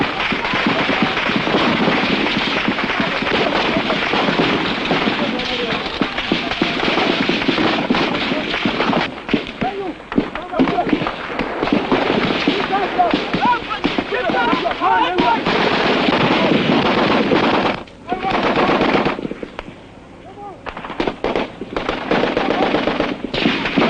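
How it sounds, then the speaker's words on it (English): Troops in the 1967 Biafran War in Nigeria fire heavily and blindly. Dense, near-continuous machine-gun and rifle fire fills nearly the whole stretch, with a few short lulls and some voices mixed in. "the Biafran troops fire blindly at enemy positions they can scarcely see."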